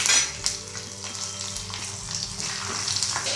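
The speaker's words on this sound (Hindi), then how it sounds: "मेथी, तिल और ये हरी मिर्ची। तड़के को भूनने देती हूँ।" A tempering of fenugreek seeds, sesame and green chilli crackles and sizzles in hot oil, a busy close frying hiss with a few utensil clinks and no talking.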